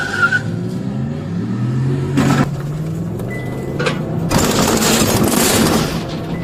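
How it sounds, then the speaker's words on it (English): A car spins out of control and crashes into a house's backyard near Sansom Park: a loud engine and rumbling road noise, a sharp impact partway through, then a longer burst of crashing, scraping noise. "The car spun out of control and crashed into the backyard of a house near Sansom Park."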